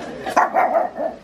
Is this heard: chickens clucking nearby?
no